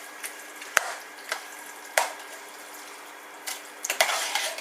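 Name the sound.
stirring spaghetti bolognese in a pot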